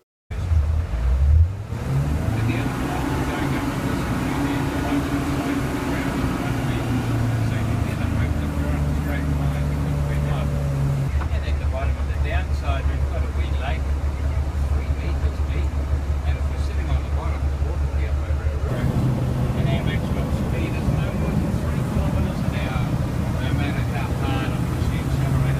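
A Swedish-built tracked vehicle for Antarctic travel runs with a loud, steady engine drone inside its cramped cabin, holding an even low hum that shifts pitch a few times, with talk mixed over the noise.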